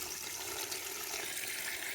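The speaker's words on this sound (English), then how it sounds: "Here, water these a little bit more." Water runs steadily onto strawberry plants in a cement planter box outdoors, a continuous close hiss and splash with no breaks.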